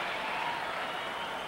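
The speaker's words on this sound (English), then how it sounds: "that's why the crowd was cheering" A hockey arena crowd at the 1983 USSR versus Calgary Flames game cheers after an interference play, a steady, dense roar of voices and clapping throughout.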